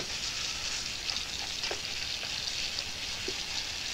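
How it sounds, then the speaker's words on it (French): Meat searing in a generous layer of oil in a hot pan, in a restaurant-style kitchen scene, giving a steady, close, bright sizzle and hiss throughout with no talking. "Pour cuire la viande, on met toujours un fond d'huile, on saisit, on caramélise et après on finit au beurre."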